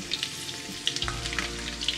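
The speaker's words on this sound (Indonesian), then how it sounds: "Ini kita goreng sebentar aja, supaya warnanya tetap hijau, ya tetap cantik, ya." Petai stink beans frying briefly in oil in a pan, a steady close sizzle with crackling pops and a soft stirring scrape partway through.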